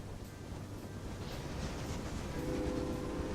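A train rolls past in the Railway Empire game, a steady low rumble that holds throughout and swells slightly louder toward the end, with no talk over it.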